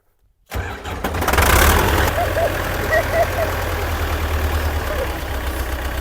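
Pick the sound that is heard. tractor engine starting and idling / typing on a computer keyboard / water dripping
tractor engine starting and idling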